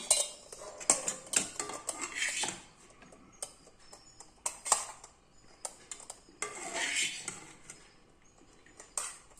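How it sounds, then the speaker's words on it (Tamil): A spoon scoops and scrapes food from a pot into a metal lunch box, giving close, bright clinks and metallic scrapes in irregular bursts with brief pauses and no voices. "இப்போ லஞ்ச் பாக்ஸில் ஃபில் பண்ணிடலாம்"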